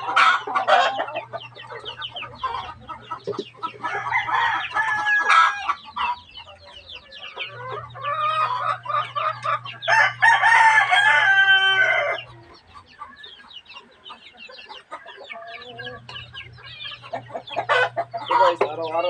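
Chickens cluck busily in a backyard coop, with a rooster crowing loudly several times among them, close and lively, over a low background hum.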